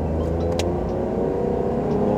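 Engine of a Toyota Wigo E CVT revving in sports mode, a steady low droning hum heard from inside the small car, continuous and fairly loud with no talk.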